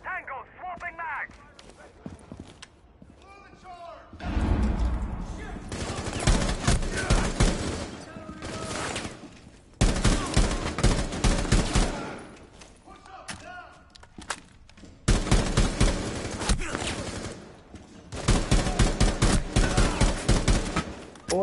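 Bursts of rapid automatic gunfire from the video game Rainbow Six Terrorist Hunt come in several long volleys with short pauses between, loud and close, while a player talks over the shooting.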